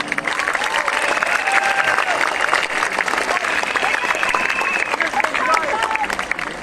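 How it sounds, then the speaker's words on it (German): Loud, dense applause from a large crowd at an outdoor protest demonstration in Cologne, continuous clapping that holds steady throughout. "Ja, nochmal einen Applaus für euch selber, beklatscht euch mal"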